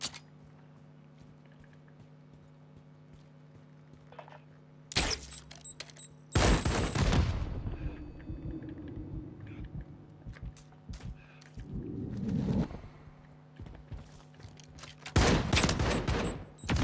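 Gunfire in a one-on-one shooter video game, several sharp loud bursts of rapid shots separated by quieter stretches of background game noise, with no talking over them.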